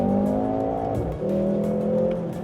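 A Mercedes-AMG GLC 43 SUV is driven hard on a racetrack, its engine droning loudly under load, dipping briefly as it shifts or lifts, then pulling again with a faint tire squeal. No voices.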